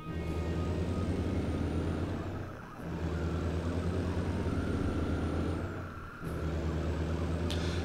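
A heavy truck engine in American Truck Simulator drones loudly and steadily with a deep throaty tone, dipping twice during gear shifts before pulling again.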